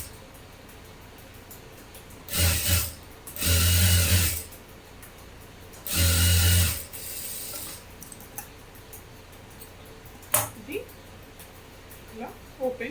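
A sewing machine stitches a lined blouse in three short bursts of loud, buzzing running, each lasting about a second, separated by pauses with soft handling noises and a voice in the room.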